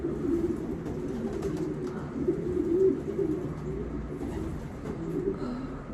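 A racing pigeon, a dark checker hen, coos softly in steady low murmuring throbs while being held in hand, close and continuous with faint room noise and no talk.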